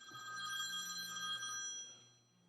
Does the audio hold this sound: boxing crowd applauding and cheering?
no